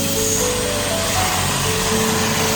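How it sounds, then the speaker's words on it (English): A PRI-4050-M modular vacuum table sucking sprinkled clean water through its surface into the vacuum hose, a loud, steady, unbroken suction roar with faint tonal hum underneath and no talk. "Water will be rapidly drawn into the vacuum table."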